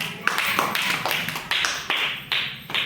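A group of schoolchildren in class claps in a patterned rhythm, with crisp tapping slaps falling in short repeated groups, near and moderately loud.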